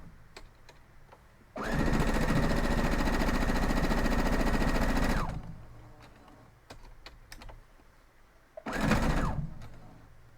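Sewing machine stitching a quilt block, running in a steady fast hum for about four seconds, then a short second burst after a pause, with soft handling clicks between.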